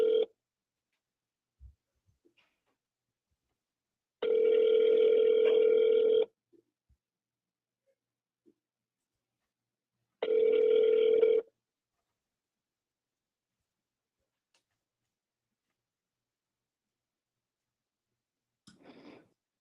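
A telephone rings in two separate steady electronic bursts, each a couple of seconds long with silence between, plus a few faint clicks and a brief sound at the end.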